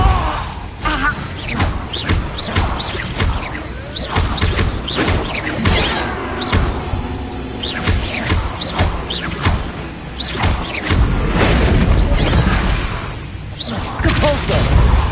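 Depulso force spell from Hogwarts Legacy repeatedly striking objects, giving a string of thumps, crashes and shattering impacts with whooshes, loud and busy throughout, under steady talk.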